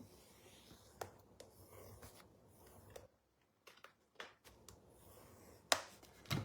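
Quiet rubbing and scraping as layered cardstock and its folds are burnished by hand, in short strokes with a few sharper taps and a brief pause.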